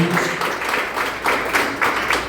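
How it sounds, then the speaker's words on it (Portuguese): Church congregation giving a round of applause for Jesus during a Portuguese-language service, loud clapping that swells in rhythmic pulses, roughly in time, through the whole stretch. "Dê uma salva de palmas para Jesus aí"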